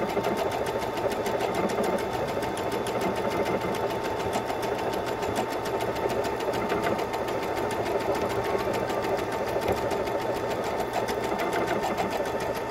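Baby Lock Soprano sewing machine stitching out a bumblebee embroidery design, its needle running in a steady, fast mechanical chatter that continues evenly and fairly close throughout, with no talking.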